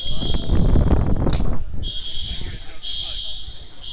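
Fire alarms blare in a high, steady electronic tone that sounds in long repeated pulses with short gaps, loud and close, while a person speaks over the start.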